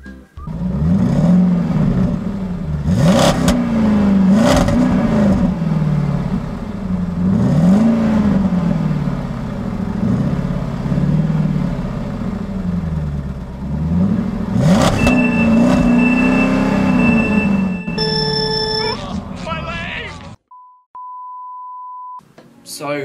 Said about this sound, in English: How about a drag race?